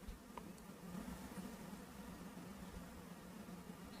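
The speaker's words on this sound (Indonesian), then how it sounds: "sebetulnya saat ini masih ada sedikit dengungan yang bersumber dari yang namanya fan lighting saya" A faint, steady electrical hum from a lighting fan drones low and constant under the quiet room noise floor picked up by a Maono PM471 USB condenser microphone.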